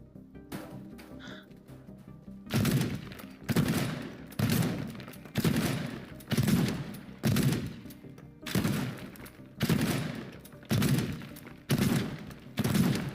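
Gunfire from the player's own gun in the game Teardown, roughly ten heavy booming shots at a steady, slightly uneven pace, each loud with a short decaying tail, after a quieter lead-in.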